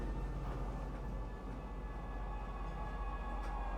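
Low, steady rumble of a train arriving at a spaceport in the Star Citizen video game, a continuous hum with faint tonal whine throughout, fairly quiet and without speech.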